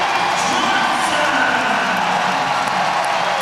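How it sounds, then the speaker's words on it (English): A basketball arena crowd at a women's college game in Raleigh roars and cheers in a loud, steady wash of voices with scattered shouts, a commentator's voice running under the noise. "Now the crowd is in the game."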